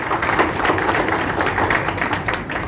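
Applause from an audience at a lawyers' association inauguration in a hotel function room, steady dense clapping from many hands that continues without a break and stays fairly loud throughout.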